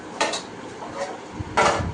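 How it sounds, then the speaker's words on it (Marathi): Dishes and pots clatter and clink in a few sharp bursts, with soft scraping and scrubbing between them, close by. "ही भांडी घासते आहे"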